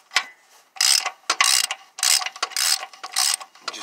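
A ratchet with a 22 mm socket cranks a bolt down on a 1990 vehicle's engine, giving bursts of rapid close clicking in several separate strokes with short pauses between them.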